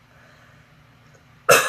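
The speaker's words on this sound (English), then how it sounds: "And I've got this like post-nasal drip cough." A single short cough from a woman with post-nasal drip bursts out sharply at the very end after near silence.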